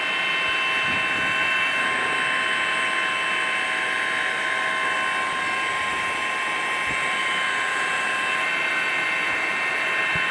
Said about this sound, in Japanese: ヘリコプターが今屋根の上で止まりました。 そしてギリギリの高さまで、降りていきます。